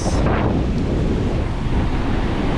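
Ocean waves roll and crash against the shore in a loud, continuous roar, with wind buffeting the microphone throughout.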